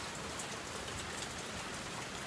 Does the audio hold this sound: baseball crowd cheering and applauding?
no